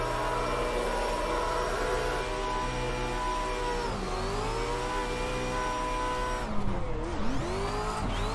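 Racing cars in a PC driving game roar and rev continuously up close, with engine pitch sweeping down and up and a brief crunch of collision near the end.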